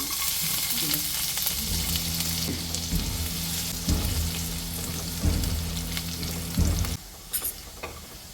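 Chopped garlic frying in two tablespoons of hot oil for paneer fried rice, a steady close sizzle with occasional stirring scrapes and pan knocks.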